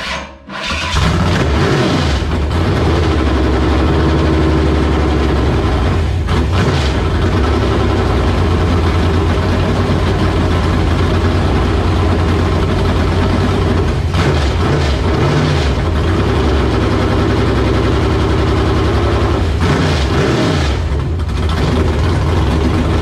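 An engine fires up right at the start on its first run after a Holley Terminator X base tune, then keeps running loud and steady, with a deep, even idle rumble that lasts throughout and carries no talk over it.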